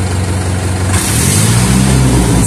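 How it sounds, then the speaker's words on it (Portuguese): A truck engine revs close by, a steady loud idle rising at about one second into a stronger, higher revving drone that holds to the end. "Você acelerou o caminhão."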